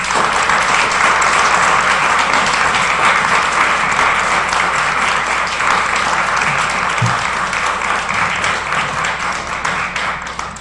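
Loud sustained applause fills a hall honoring the Columbia High School girls fencing team, dense steady clapping from a crowd throughout.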